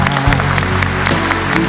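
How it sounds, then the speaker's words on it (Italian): Applause at an Italian wedding: a short burst of crowd clapping, loud and close, with some murmuring and cheering mixed in. "C'è un bel applauso."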